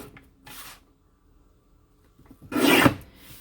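Cream textured cardstock being trimmed for a scrapbook page on a paper trimmer: two short rasping slides, a light one early and a louder, longer rough swipe near the end, close and without talk.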